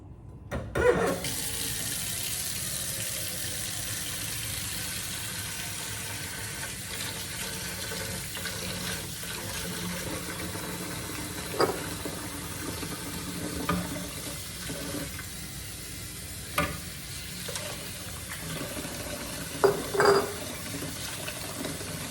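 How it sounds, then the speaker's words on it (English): Tap water runs steadily over sprouts in a kitchen sink as seed hulls are rinsed away, a constant close splashing stream with occasional louder splashes from handling, no voices. "Now I'm going to rinse my sprouts so that I can remove the seed hulls."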